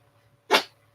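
A dog gives a single short, sharp sneeze, close and fairly loud, standing alone against a quiet room.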